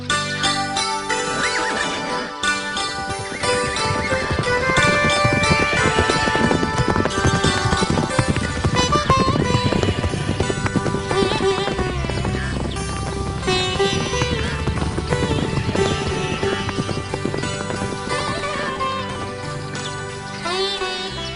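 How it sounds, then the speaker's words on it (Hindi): A horse gallops toward a river in a historical Indian drama, with continuous rhythmic hoofbeats under loud, dense background music throughout and no talking. "तुम तो बड़ी अच्छी घुड़सवारी जानती हो झलकारी।"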